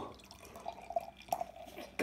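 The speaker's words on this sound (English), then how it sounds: "Ooh, look at that pour." Golden-brown beer pours into a glass with liquid gurgling and splashing, finishing in a louder splash, while a voice talks nearby.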